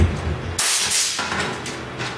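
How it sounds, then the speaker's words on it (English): Compressed air blows dust off freshly scuffed parts before a custom camo paint job, with a loud, close hiss that starts after a brief pause and keeps going in sustained bursts. "and you want to blow the dust off."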